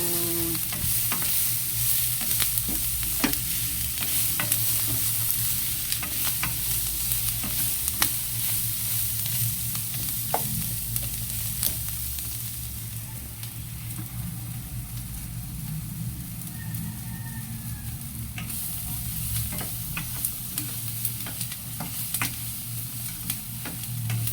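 Mixed vegetables poured into a hot pan and sautéed for a Filipino ginisang dish, with a constant loud sizzle and frying hiss throughout, punctuated by occasional stirring clicks and scrapes of a utensil.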